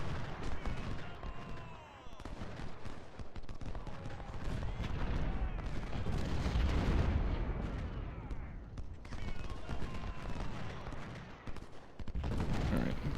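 Cannon and musket fire crackle and boom in repeated volleys throughout a Civil War battle at Corinth in the strategy game Ultimate General: Civil War, dense and fairly loud, with brief lulls between bursts.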